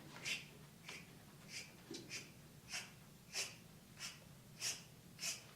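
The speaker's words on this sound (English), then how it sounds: "Take a deep breath in again. Let it out." Rhythmic breathing during a home workout, soft and airy breaths repeating at a steady pace roughly every half second to second, close but faint, with no talking.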